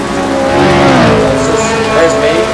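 A Ferrari race car engine in the Assetto Corsa racing game revs loudly and steadily, its pitch climbing and dipping as the car drives past, with a hint of tire squeal.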